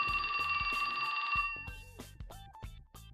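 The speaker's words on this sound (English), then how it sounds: "That's my phone." A mobile phone rings indoors, a bright repeating electronic ringtone for about a second and a half, then a few short tones and clicks follow, fairly quiet.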